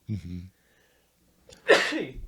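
A short voiced sound is followed by a pause, then one loud, close sneeze bursting out sharply and trailing off.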